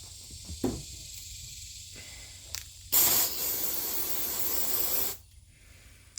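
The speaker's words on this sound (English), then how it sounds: "I'm about to spray this thing with brake parts cleaner" Quiet shuffling, a couple of short hisses, then a loud, sustained spray of aerosol brake parts cleaner blasts for about two seconds onto a disassembled Stihl MS-261 chainsaw carburetor before cutting off.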